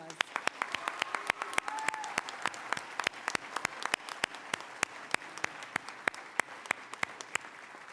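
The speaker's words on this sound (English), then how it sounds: "Okay, let's give a round of applause." A high school underclassmen awards audience applauds, with one close pair of hands clapping sharply in a fast, even rhythm over a softer crowd of clapping throughout.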